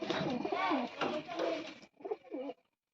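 An old pigeon kept at a home gives close, low cooing in a few short rolling bursts, with a brief pause before the last phrase.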